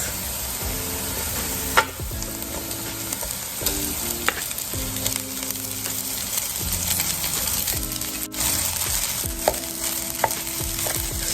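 Rice and onions frying in butter in a pan, a steady loud sizzle with scraping stirs and occasional sharp clinks of the utensil against the pan throughout.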